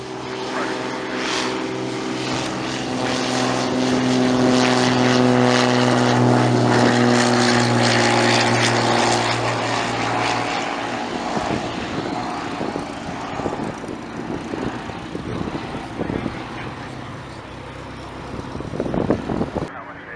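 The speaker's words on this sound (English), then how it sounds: "as we can see, the World War I plane is coming." A World War I era propeller plane approaches over Santa Monica Airport, its droning engine tone loud and steady at first, then fading and roughening into a broad rumble as it passes, with no talk.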